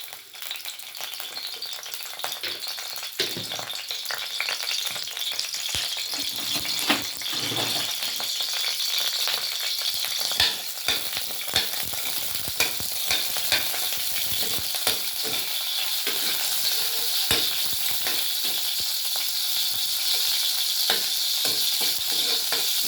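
Garlic frying in a hot pan while chicken tinola is prepared, with a steady, close sizzle throughout, broken by scattered stirring scrapes and light rattles of the pan. No voices are heard.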